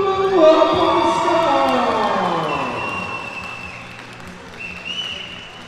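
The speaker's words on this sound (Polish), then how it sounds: "Brawa dla Jamala." A crowd at an arm-wrestling World Cup final in Pabianice, Poland, claps and cheers for the winner, loud at first and then slowly fading, with a whistle-like tone and voices mixed in.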